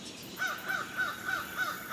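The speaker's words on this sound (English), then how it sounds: "probably over the crows" Crows caw repeatedly outdoors, six evenly spaced harsh calls at moderate distance, alone without talk.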